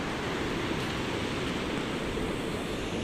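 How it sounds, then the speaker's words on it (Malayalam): A steady, broad roar of surf washing onto the shore, constant and full without distinct breaks, no voices present. "നല്ല തിരകളൊക്കെ ഉണ്ട് നിങ്ങൾക്ക് സൗണ്ട് കേൾക്കാം നല്ലോണം കടൽ തിരയടിക്കുന്നുണ്ട്"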